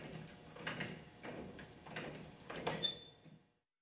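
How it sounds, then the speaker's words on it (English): The door of a Fastcorp Evolution vending machine is unlocked with a T-handle lock and swung open. Several rhythmic metallic clunks and scrapes come close up, followed by a brief squeak and then silence. "Turn the handle counterclockwise until the door opens."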